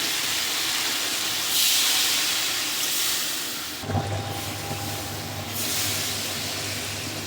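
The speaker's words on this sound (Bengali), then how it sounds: "এখন পরিমাণ মতো জল দিয়ে দিব।" Loud, continuous hissing sizzle as water hits hot fried masala for a spicy puti fish curry, the steamy roar shifting and settling into a lower bubbling hiss partway through.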